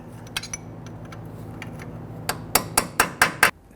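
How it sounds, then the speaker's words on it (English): A hammer taps a punch into the axle nut lock on the front left CV axle of a 2006-2012 Toyota RAV4. Light metallic clinks come first, then a run of about six sharp, ringing strikes close up. "You're going to want to go ahead and grab a punch, put it inside there, and you're going to tap that in."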